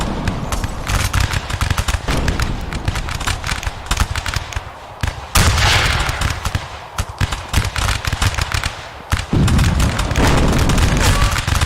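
Musket line barrage in the video game Rise of Liberty: dense, loud volleys of overlapping gunshots and booms roll continuously, with sharp bursts and brief lulls between waves.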